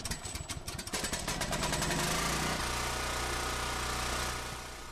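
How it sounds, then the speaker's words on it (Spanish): A generator in The Last of Us on PS3 sputters with rapid chugging pulses, then settles into a steady, loud, droning mechanical run that fades slightly at the end. "¿Esto qué es? Un generador. Venga, dale caña."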